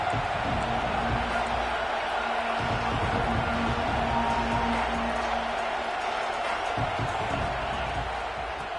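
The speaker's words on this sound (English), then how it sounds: "This crowd bringing the energy and noise early." A dense stadium crowd in a college football video game, Oregon versus Indiana, roars continuously, a steady wash of cheering and chatter with no breaks.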